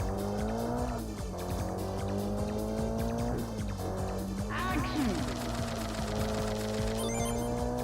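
Naturally aspirated Honda Civic racing hard in the Gunma touge game Kaido Racer, engine droning and shifting through gears with tires squealing on corners, loud and continuous under game music.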